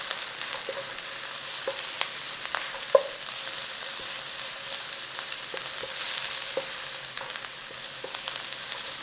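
Onions and spices fry in a pan for a cheap curry with a steady crackling sizzle, while a spoon scrapes and clicks against the pan in irregular strokes, one knock standing out.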